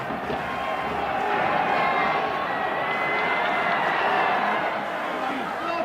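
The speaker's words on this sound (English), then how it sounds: "The crowd waved placards and cheered their MP" Large crowd cheering and shouting for Chartist MP Fergus O'Connor at a 19th-century petition rally with flags and placards, a dense steady roar of many voices throughout.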